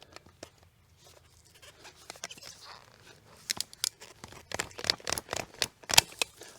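A horizontal cut into a woody weed stem such as privet, giving a string of sharp, close crunching snaps that begin faintly and build into a denser burst of cracks.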